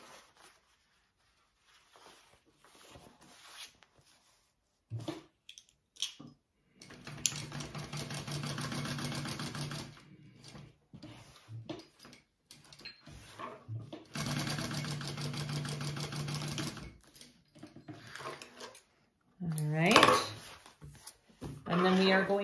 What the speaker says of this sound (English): top stitch it on either side.